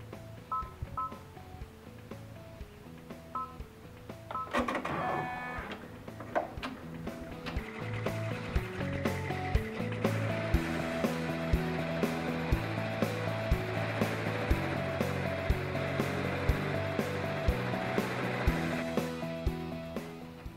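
An embroidery machine stitching a cap on a cap frame: rapid, rhythmic mechanical tapping and beeping tones that rise into a steady stitching whir, close up, with no voices.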